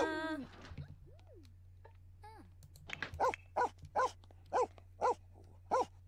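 A dog in The Sims 4 barks about six times at an even pace, clear and fairly close, after a few brief whines, over a steady low game hum.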